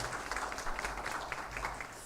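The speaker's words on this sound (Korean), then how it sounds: "우리 반주해 주시는 분들에게 감사의 박수하겠습니다" Quiet applause from a chapel congregation at a university service, thanking the accompanists including a double bassist; steady, soft clapping continues throughout, somewhat distant and faint.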